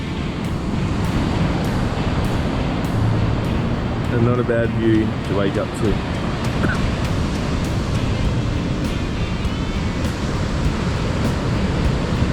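Surf from the incoming tide on a Fraser (K'gari) Island beach roars in a steady, loud wash mixed with wind buffeting, while someone speaks briefly over it.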